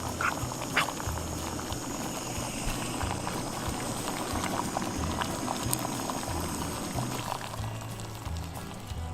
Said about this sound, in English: So you see that, you got your boil going.